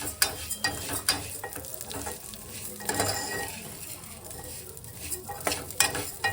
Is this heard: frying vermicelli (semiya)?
yes